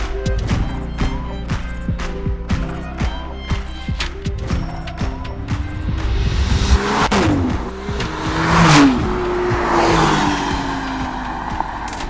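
McLaren Artura Spider with a twin-turbocharged 3-litre V6 hybrid engine driving on the road, steady engine drone with rising revs and shifting pitch, a louder swelling pass near the end.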